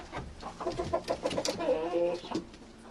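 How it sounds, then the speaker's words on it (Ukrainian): Laying hens cluck repeatedly in a rural village yard in autumn, a busy stream of close, rhythmic clucks and short calls with no talking. "Така чубата, дивіться, яка цікава курочка."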